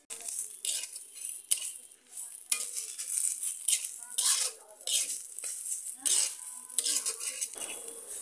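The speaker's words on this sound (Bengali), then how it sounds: "দেখতেই পারছেন যে সজনার পাতাটা কেমন সবুজ কালারের হয়ে গেছে। আস্তে আস্তে সজনার পাতাটা সুন্দর করে ভাজা হয়ে গেল।" Moringa leaves frying in a pan are stirred with a metal utensil, giving repeated scraping clinks and bursts of sizzle in an irregular rhythm, close and fairly loud.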